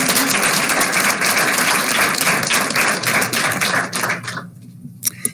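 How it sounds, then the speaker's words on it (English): Audience applause at a school board meeting, a dense wash of many hands clapping that holds steady, then thins out and fades to a few last scattered claps. "If we can give them another round of applause."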